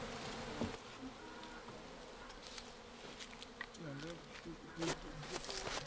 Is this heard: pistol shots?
no